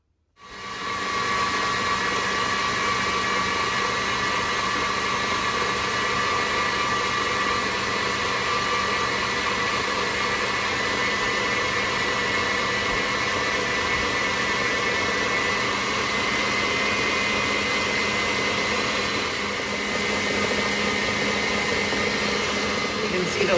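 An electric mixer beats egg whites at high speed for a pavlova, giving a steady, loud motor whir and hum that runs unbroken through the whole stretch with only a slight dip near the end.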